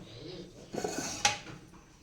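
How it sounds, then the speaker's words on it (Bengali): A metal lid closes on a biryani cooking pot, giving one sharp clink amid softer scraping and knocking of cookware, close and brief in a quiet kitchen. "বিরিয়ানির হাঁড়িটা আটকে দেবো।"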